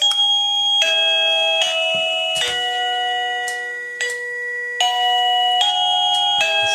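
An Avantek Jerrybox DT52 wireless doorbell plays several short chime melodies, each one a bright ringing tone that starts sharply and fades before the next begins, loud and close with no voices.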